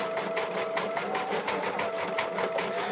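Embroidery machine stitching out a design: a steady, fast rhythmic mechanical chatter of needle strokes with a faint whine running underneath, continuous and fairly close.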